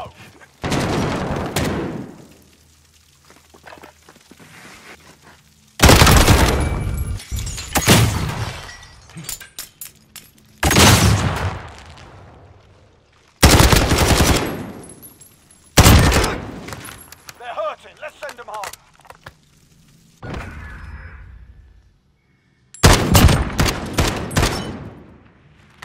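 Gunfire in Call of Duty: Modern Warfare, loud bursts of automatic fire arriving in repeated clusters with short gaps, heavy and close, interspersed with crackling impacts and quieter stretches.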